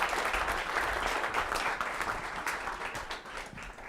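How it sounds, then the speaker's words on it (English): Sustained audience applause at a digital marketing conference on SEO trends, given for the expert panelists, dense and even throughout with no voices standing out. "I want to give a big round of applause for our expert panelists here"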